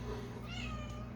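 A house cat meows softly and briefly near the floor in a kitchen where chicken broth is being used, a single faint rising cry over a low steady hum.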